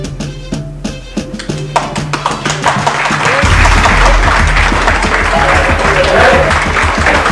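Applause breaks out at a heated city council session, scattered claps at first building into sustained loud clapping from a crowd, with voices mixed in.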